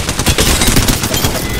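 Rapid automatic gunfire from the video game Apex Legends rattles loud and close in a dense, continuous burst of overlapping shots.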